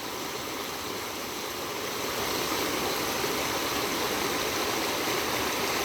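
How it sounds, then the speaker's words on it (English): A river stream flows in a steady, full rush of water with dense broadband noise. It holds an even, fairly loud level throughout and no voices are heard. "So just focus on this right now of what's happening with the river."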